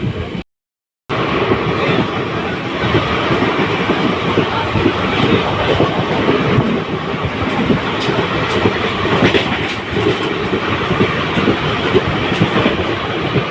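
The 13153 Gour Express passenger train runs on rails with a loud, continuous rumble and steady wheel clatter, heard from on board after a brief cut near the start.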